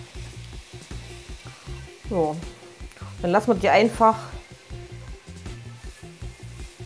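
Nutella cinnamon toast rolls sizzling and frying in a pan, a soft steady crackle under someone speaking German throughout.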